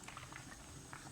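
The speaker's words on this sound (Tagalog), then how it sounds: "Kumukulo na. Mukhang napakasarap." Fish and vegetable soup bubbling in a pot, a soft, steady patter of small bursting bubbles close by, fairly quiet, with no talking.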